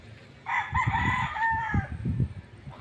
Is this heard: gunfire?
no